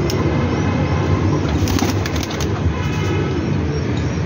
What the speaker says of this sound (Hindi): नज़र मारो इस कबूतर, बहुत क्लास दा माशाल्लाह कबूतर